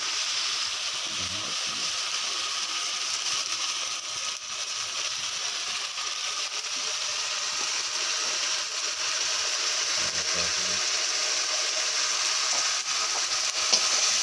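Spice paste hitting hot oil and frying onions in a home pan while chicken curry is being cooked, a steady, continuous hiss and sizzle with faint stirring scrapes throughout, no voices.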